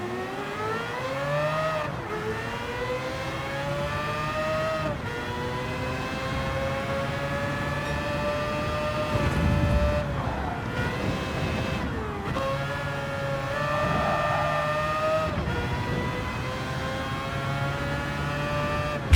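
A Mazda 787B race car engine in Gran Turismo 7 wails at high pitch on the Sardegna circuit, climbing repeatedly through the gears with short breaks between shifts. It stays loud and continuous throughout with no talk.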